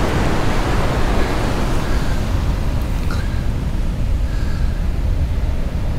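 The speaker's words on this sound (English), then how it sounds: "We have pretty small waves coming in here" Small ocean waves wash onto a beach on Molokai's west side in Hawaii, a steady, broad hiss of surf with no distinct breaks, fairly loud and unbroken, with no talking.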